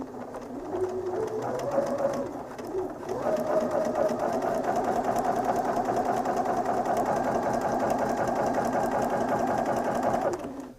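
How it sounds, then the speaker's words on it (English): Sewing machine running steadily while chain piecing quilting fabric, a continuous close mechanical whir with a brief slowdown near the start, then a sustained even hum until it stops. "I'm just going to press on the pedal and continue to sew"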